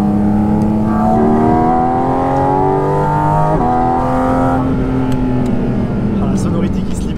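A 500 hp Porsche Cayman GT4 RS engine revving around 5-6000 rpm, a loud, steady, close harmonic howl that climbs in pitch and holds, then eases slightly, heard from inside the car.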